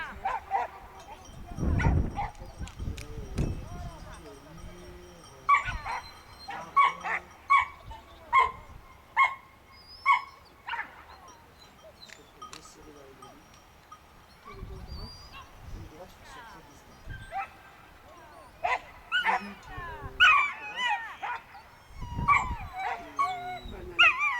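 A dog barks and whimpers in uneven bursts, with high whining cries and short yelps scattered through a quiet room. People talk intermittently between the sounds.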